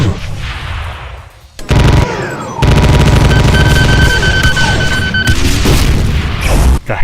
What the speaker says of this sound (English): the barrage of homing rockets